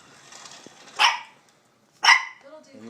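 A dog barks twice, about a second apart, sharp and fairly close, with a quiet outdoor background between the barks.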